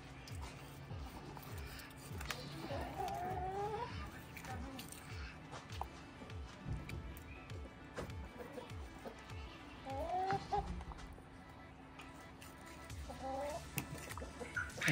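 Barn chickens cluck in short bursts beside people filleting a large halibut, faint and somewhat distant amid scattered knocks, footsteps and quiet work sounds.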